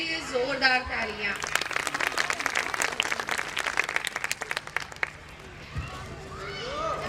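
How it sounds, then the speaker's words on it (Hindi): Audience at a school annual day celebration claps loudly for a teacher, a dense burst of applause lasting about five seconds before fading, with a voice speaking over the start and end. "एक बार मेरी मैम के लिए जोरदार तालियां।"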